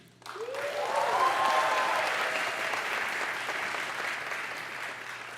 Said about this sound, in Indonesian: Tepuk tangan untuk Georgetown Uni.